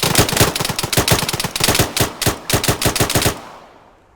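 Rapid automatic gunfire from the Arma 3 video game rattles in dense bursts for over three seconds, loud and close, then cuts off into silence.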